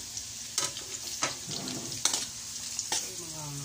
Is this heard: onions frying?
yes